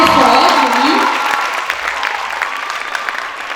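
An audience claps for a school theatre day opening with a play: a burst of applause that starts loud and then thins into scattered claps over a few seconds, with a voice speaking over the start.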